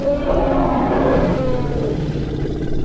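King Rex creature in the Pangea Survival game giving off a steady engine-like drone, loud and continuous with a low rumbling hum and no talk over it.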